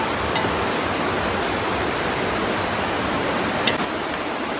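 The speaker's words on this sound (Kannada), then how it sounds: "ಕುದಿ ಬಂದಾಗಿದೆ." Water coming to a rolling boil in a pot for Malnad-style mutton mandi biryani, a steady, dense bubbling hiss that holds evenly throughout, with no voices.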